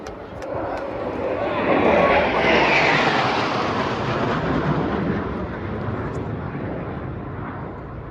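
Indian Air Force jets in the Trishul formation pass overhead at a Republic Day parade. A loud jet roar swells, peaks, then slowly fades into a broad rumble, with faint voices in the background.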